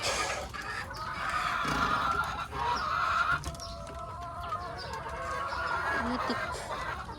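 Domestic ducks quack and honk in a steady, overlapping chorus close at hand in a morning farmyard with laying birds.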